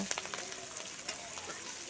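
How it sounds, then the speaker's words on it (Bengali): Steady sizzling and crackling of onions frying in hot oil, close by and continuous, with small pops scattered throughout. "সেগুলোকে তেলের মধ্যে দিয়ে ভালো করে লাল করে কিন্তু ভেজে নেব"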